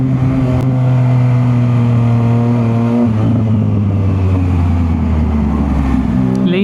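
Loud, steady engine drone of nearby vehicles idling and creeping along in Makati rush hour traffic, one engine shifting pitch partway through, no voices.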